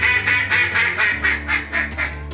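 A duck call blown during an opening-day duck hunt gives about eight evenly spaced, nasal quacks in a steady rhythm, loud and close.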